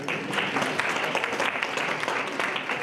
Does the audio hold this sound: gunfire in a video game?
no